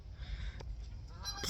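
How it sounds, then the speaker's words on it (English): Geese honk in the background outdoors, a few rough calls standing out clearly over a low steady rumble, with a sharper honk near the end. "if you hear that in the background, that was like geese and everything."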